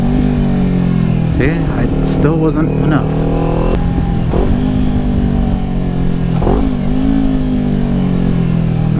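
A car engine revs and changes pitch during a downshift to second gear, with several throttle blips rising and falling under someone talking.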